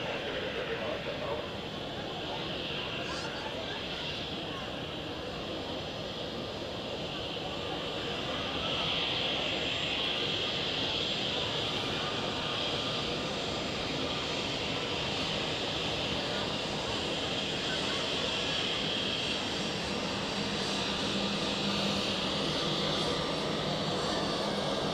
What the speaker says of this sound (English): And we have the next heavy departure. United Airlines with the Boeing 767-400ER